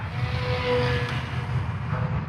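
A WLToys A160 J3 Skylark Cub RC micro plane whines past at full throttle, its steady high-pitched propeller drone swelling slightly as it passes, with no voices.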